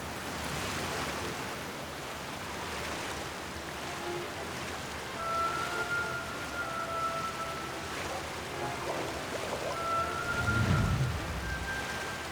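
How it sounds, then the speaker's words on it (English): Steady rain falls in the video game Genshin Impact, a broad even hiss throughout with a low rumble swelling near the end and a faint tone drifting over it. "No, it doesn't actually stop real rain."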